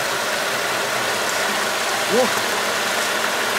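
Pool pump at a country house running with a steady, close mechanical hum, joined briefly by a short exclamation from a voice.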